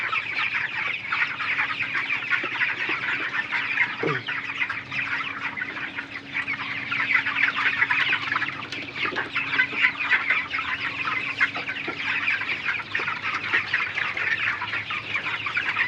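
Many broiler chickens cluck and murmur continuously at a moderate distance in hot weather, with occasional louder squawks over a busy flock background.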